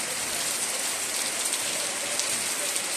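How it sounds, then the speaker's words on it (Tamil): Heavy rain pours down in a rural village during a Thai Pongal celebration, a dense, steady hiss of drops drumming on surfaces that stays constant throughout with no voices. "சரியான காட்டு மழை பெய்யுது."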